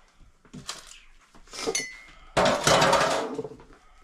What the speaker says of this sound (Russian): Так, все закрываем крышкой